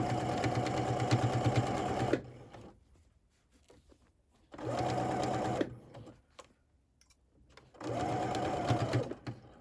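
A sewing machine stitches a shirt collar band in three loud bursts of rapid, even whirring, separated by quiet pauses.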